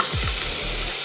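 Vegetables frying in a pan for sambar, a steady close sizzle with a couple of quick stirring scrapes near the start and no voices.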